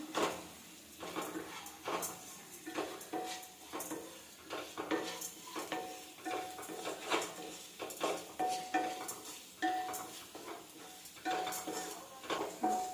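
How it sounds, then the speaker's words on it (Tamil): Grated coconut being stirred and sautéed in a pan, with repeated close scraping and tapping of a spoon against the pan over a light sizzle, steady throughout. "ஒரு கைப்பிடி தேங்காய் பூ எடுத்து வச்சிருக்கேன், அதையும் இது கூட சேர்த்துக்குவோம். சேர்த்து நல்லா வதக்கிக்கலாம்."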